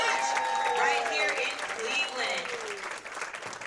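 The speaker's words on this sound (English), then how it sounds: "Let's give these ladies a round of applause." Spectators at a women's professional bowling tournament final in Cleveland give a steady round of applause, with an announcer talking over the clapping.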